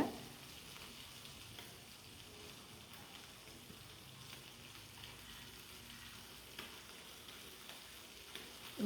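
Small anchovy fish fry in a pan over low heat, giving a faint, steady crackling sizzle with occasional soft pops and scrapes as they are turned.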